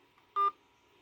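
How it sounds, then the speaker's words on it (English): A single telephone touch-tone keypad beep, a short clean dual tone lasting a fraction of a second over faint background hum. "please enter the following number on your phone's touchtone pad"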